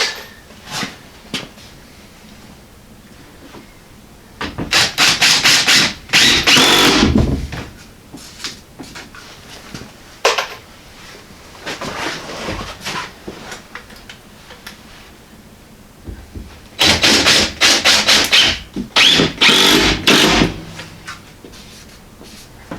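Screws are driven into a wooden shipping crate in two loud, close bursts of whirring drive a few seconds long. Quieter knocks and handling noises fill the gaps between them.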